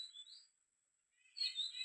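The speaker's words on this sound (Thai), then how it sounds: "นี่เสียงนก" A wild bird chirps in short, high, thin bursts near a trapping spot at a drinking place, with one faint call, a brief pause, then another slightly louder chirp, and no voices.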